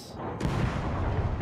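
Naval guns fire in the video game World of Warships while a British cruiser, Emerald, is played. A loud, dense booming salvo rolls through a short stretch and builds into a heavier blast partway through.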